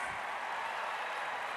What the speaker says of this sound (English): Give them a nice big round of applause